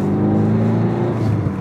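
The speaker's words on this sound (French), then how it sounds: "on entend le petit turbo" Citroën DS3 E-HDI diesel hatchback pulling hard under acceleration, a loud steady engine drone with a faint turbo whistle above it, close and continuous with no talk.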